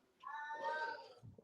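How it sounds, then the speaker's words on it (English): A cat in heat caterwauls close by in one sustained, wavering yowl lasting about a second, followed by a soft thump. "I hear a cat in heat"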